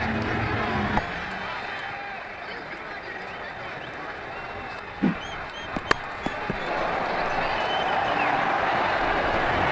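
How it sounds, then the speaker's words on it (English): A stadium crowd in the Ashes Cricket 2009 video game cheers and roars after a six, a broad steady swell behind continuous commentary with a few thuds. "The crowd really enjoyed that."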